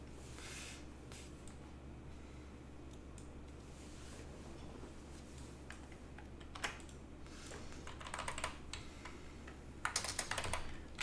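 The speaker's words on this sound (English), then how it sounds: "The typing ASMR is real." Steady keyboard typing during a stream of Trails in the Sky the 3rd. Soft clicks run through most of the clip under a constant low hum, then grow denser and louder toward the end. No one speaks.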